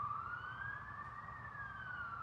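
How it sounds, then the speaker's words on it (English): Police and ambulance sirens wail, rising and falling steadily as they pass over a low rumble of traffic, heard continuously and moderately far away. "It doesn't hurt that there are sirens going by, police and ambulances going by"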